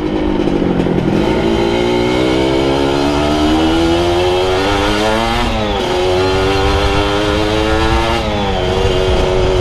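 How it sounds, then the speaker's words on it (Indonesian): A Honda Nova Dash motorcycle's exhaust revs loudly up and down through rising and falling pitch sweeps while riding, close and continuous with no talking. "Bunyi knalpotnya enak banget, merdu gitu."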